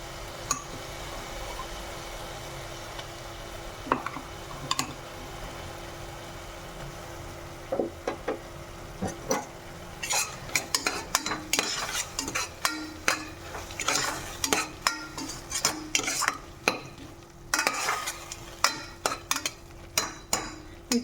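Ginger garlic paste going into a pan for khuska plain biryani and stirred, with a spoon scraping and clinking against the metal pan in rapid bursts that build toward the end, close and moderately loud, with no talking.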